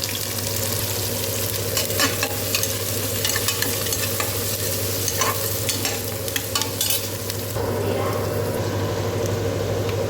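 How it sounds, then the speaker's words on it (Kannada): Onions frying in a pan for ghee rice, with a steady dense sizzle and crackle plus scraping stirring throughout, over a constant low hum. "ಸ್ವಲ್ಪ ಒಳ್ಳೆ ಫ್ರೈ ಆಗಬೇಕು ನೀರುಳ್ಳಿ."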